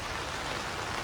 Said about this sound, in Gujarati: બટ આવ્યા તરત જ વરસાદ ચાલુ થઈ ગયો છે.